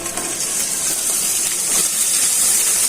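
Steady hissing sizzle of spiny gourd frying in hot oil, continuous and close, with no voices.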